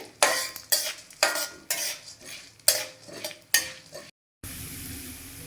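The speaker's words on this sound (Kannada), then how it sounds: "ಮೀಡಿಯಮ್ ಉರಿಯಲ್ಲಿ ಇಟ್ಕೊಂಡು ನಾವು ಇವೆಲ್ಲ ಉರಿಬೇಕಾಗ್ತದೆ" Moringa chutney powder ingredients roast in a pan over a medium flame, with a spoon scraping and stirring in a steady rhythm of sharp metallic strokes over a soft sizzle, close and clear, ending after a brief pause.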